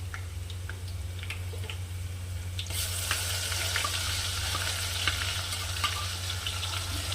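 Onion and masala sautéing in oil in a pan for a village-style chicken curry, a soft continuous sizzle with scattered stirring scrapes and a low steady hum underneath.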